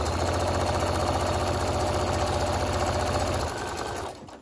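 Sewing machine with a walking foot running a line of quilting stitches through bag panels, a fast steady mechanical chatter that runs continuously and stops near the end.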